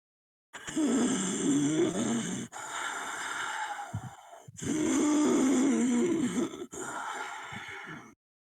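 A human voice imitates the raspy breathing of a creature in a cavern, with long harsh inhaled and exhaled rasps repeated in four close, steady cycles.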